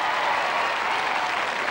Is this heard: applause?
yes